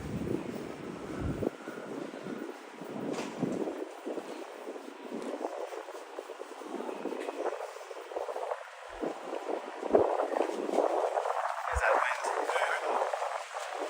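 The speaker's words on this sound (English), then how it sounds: "There's that wind. Not as windy as yesterday, but not completely windless today." Steady wind rushes and buffets the microphone outdoors in New York City, a continuous broadband roar rising toward the end.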